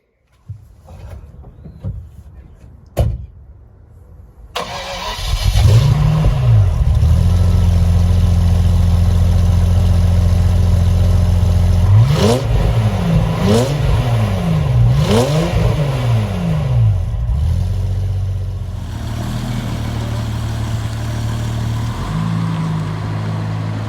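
A Jaguar XJRS engine cranks and fires into life, settles into a steady idle, then gets revved several times in quick swells before dropping back to idle.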